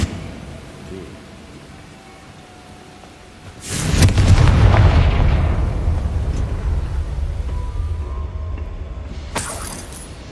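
A Confringo blasting spell in the Hogwarts Legacy video game sets off a loud explosion, with a sudden broadband burst followed by a long rumbling decay and a second sharp crack near the end.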